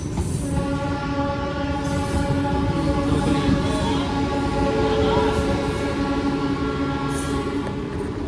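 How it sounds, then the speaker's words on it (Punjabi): A local passenger train with general coaches rumbles past close by, a steady heavy roar of wheels and carriages with a drawn-out horn tone running through it. "ਜਰਨਲ ਡੱਬੇ ਇਹ ਲੋਕਲ ਵਾਲੀ ਹੋਣੀ ਟ੍ਰੇਨ ਹੈ"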